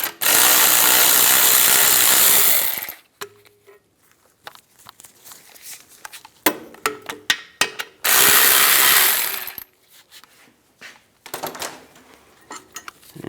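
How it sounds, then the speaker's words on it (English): A ratchet fitted with an 18mm socket loosens the rear brake caliper bracket bolts on a 2007-2014 Cadillac Escalade. Two long, loud bursts of fast ratcheting clicks alternate with quieter metallic clinks and tool handling, all close up. "Use an 18mm socket. Loosen those up, take those out."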